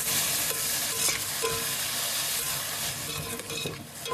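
Chopped onions, plenty of them and no coconut, sautéing in a pan until golden, a loud continuous sizzle with scraping stirs throughout and no voices.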